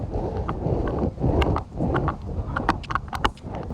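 Horse hooves cantering over a show jumping course, recorded from the saddle, a close rhythmic drumming of footfalls with wind noise and some tack rattle, no talk.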